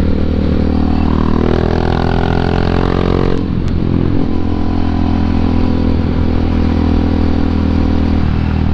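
KTM motorcycle ridden around an abandoned WW2 airfield at Wisley, its engine droning loud and steady throughout with a brief rise and dip in pitch, plus wind rush and faint clatter.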